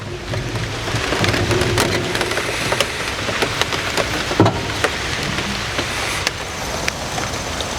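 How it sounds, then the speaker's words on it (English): Light rain falls steadily outdoors, a soft continuous patter with scattered sharper drops landing on nearby surfaces, and no one talking. "Got a little bit of light rain today"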